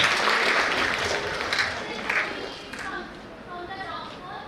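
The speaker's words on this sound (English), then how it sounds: "खुशी के लिए तालियां" An induction programme audience applauds a student named Khushi, a busy spell of clapping that gradually thins and quietens as a voice begins speaking over it.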